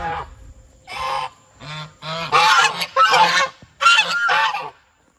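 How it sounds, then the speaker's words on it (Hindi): Loud, repeated nasal honking from several ducks close by at an ashram, in bursts with brief pauses between calls, no talking. "ये आश्रम के ही बत्तख है"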